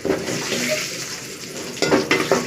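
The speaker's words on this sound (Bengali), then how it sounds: "আমি আলুগুলো ভেজে তুলে নিচ্ছি একটা বাটির মধ্যে" Potatoes frying in oil with turmeric and salt in a pan, a steady sizzle with stirring, then clattering scrapes near the end as the pieces are lifted out into a bowl, fairly close.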